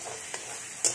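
Tomato fries in a pan with a soft, steady sizzle, broken by a couple of brief scraping stirs, close and fairly quiet, with no talk.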